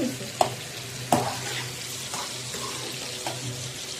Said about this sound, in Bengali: আমাদের জন্য চিংড়ি ফ্রাই করতেছে।